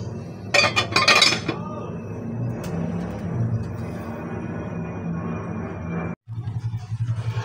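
A metal lid clinks and clatters onto a cooking pot of simmering pork, a short burst of bright clanks near the start followed by the low steady bubbling of the pot.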